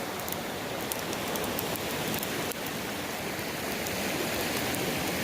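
A small waterfall near Pinto Lake on a backpacking trip at sunset, its steady broadband rush of falling water continuous and fairly loud throughout, with no voices.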